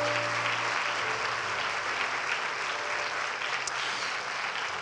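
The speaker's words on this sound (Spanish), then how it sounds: "Dale ese fuerte aplauso a Dios." A church congregation applauds steadily throughout, a dense wash of many hands clapping at moderate distance with no speech over it.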